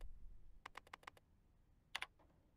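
Typing on a computer keyboard: a quick run of crisp key clicks, a pause, then a couple of louder taps, close and clear against a quiet background.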